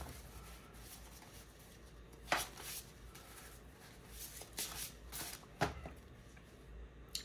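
Cash bills and envelopes are shuffled by hand, quiet papery rustles and flicks with a few sharper snaps, heard close and alone.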